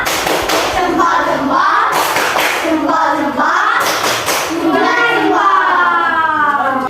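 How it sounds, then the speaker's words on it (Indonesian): A primary school class does a thumb-clap cheer: loud children's voices chant together throughout, broken by a few bursts of group clapping and thuds close by. "Tepuk jempol"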